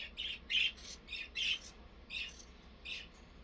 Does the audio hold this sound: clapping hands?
no